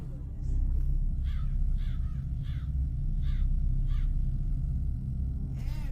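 Repeated crow caws, about six harsh calls in an uneven series, heard over a steady low rumbling bed as a sound effect in a French read-aloud children's story.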